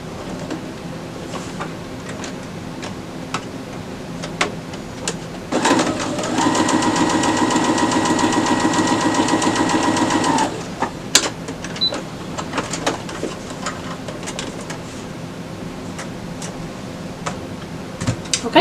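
A sewing machine stitches quilt pieces in a single steady burst of fast, even mechanical chatter lasting about five seconds, close and clear against a quiet room with small handling clicks before and after.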